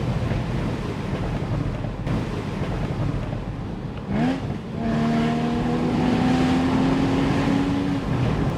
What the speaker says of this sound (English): I love the scream of the engine.